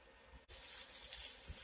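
Kitchen tap switched on to run water into a noodle pot, a sudden start after near-silence into a steady hissing splash, close and fairly quiet, with no talk.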